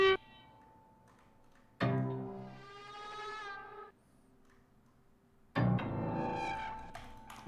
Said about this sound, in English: It's a combination of the pitch wheel and this volume automation that makes it sound like this.